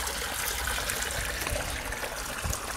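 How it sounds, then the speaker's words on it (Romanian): Clean spring water pours steadily from a village spring in Sărățel, Bistrița-Năsăud, Romania, a continuous close splashing gush with no voices. "Uite ce vine apă, ce apă curată."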